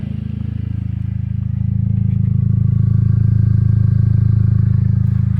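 A 2015 VW Golf engine idles steadily with a loud exhaust drone, a deep continuous rumble that swells slightly after the first couple of seconds and holds even.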